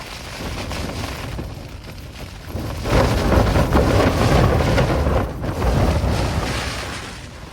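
Strong wind buffets a Hilleberg Soulo tent at a mountain campsite in rain, a loud continuous roar that swells into heavier gusts midway and stays close and unbroken.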